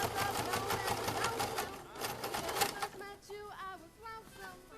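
A sewing machine stitching a casing onto a dirndl, its fast needle chatter running close and steady for about three seconds before slowing into softer, intermittent stitching.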